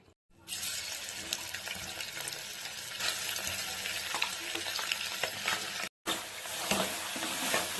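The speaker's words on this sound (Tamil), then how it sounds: "இப்போ எண்ணெய் நல்லா சூடாயிடுச்சு நம்ம வாஷ் பண்ணி கட் பண்ணி க்ளீன் பண்ணியிருக்க இந்த குடலை நம்ம சேர்த்துக்கலாம்" Cleaned, cut goat intestines drop into hot oil and fry with a dense, steady sizzle that stays close and loud, with one brief break near the end before the crackling resumes.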